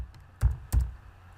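Two quick, crisp keystrokes on a computer keyboard, close and fairly soft, with quiet between them.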